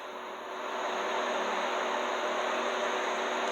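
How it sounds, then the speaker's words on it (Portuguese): An electric fan runs steadily as a continuous broadband whoosh with a faint hum, rising slightly at the start and then holding even and moderately loud, with no one talking. "Tá dando pra ouvir aí o barulho do ventilador?"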